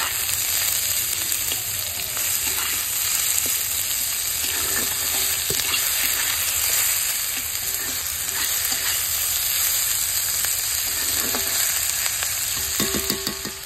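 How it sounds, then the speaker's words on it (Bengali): Potatoes fry in a pan for lentil chorchori and are stirred, a loud continuous sizzle broken by periodic scraping and clinking of the spoon, with no voices. "একটুখানি নেড়ে নিয়ে"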